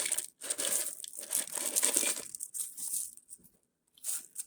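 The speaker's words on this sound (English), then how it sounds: "We need to add the rest of our onions, our crispy onions." Crispy fried onions being crushed and scattered over a dish, close crunching and crackling in irregular bursts with short pauses between, no talking.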